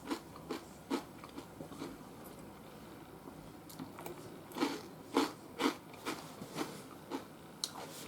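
Close, quiet crunching of homemade croutons made from dehydrated bread, a dozen or so separate bites and chews spread irregularly, the louder ones clustered near the end over faint room hiss.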